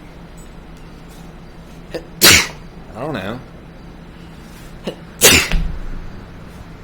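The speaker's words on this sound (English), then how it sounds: "Sneeze all over the place" Two sharp, loud sneezes a few seconds apart, with a brief muttered voice and a small sniff or vocal sound between them.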